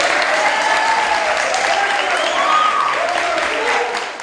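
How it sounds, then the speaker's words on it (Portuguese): Students at Colégio Estadual Paula Soares give a school guest a loud round of applause, dense clapping with a few cheering voices that stays strong before easing off at the end. "Galera da Paula Soares, uma salva de palmas."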